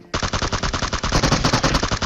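Video game gunfire erupts as a loud, continuous burst of rapid automatic shots, densely packed and close, filling the whole moment with no speech.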